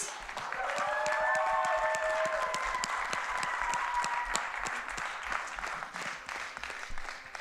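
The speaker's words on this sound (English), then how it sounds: "I think they deserve a standing ovation." Church congregation giving veterans a standing ovation, a dense roar of sustained applause that swells early with a few whoops and cheers, then slowly thins out.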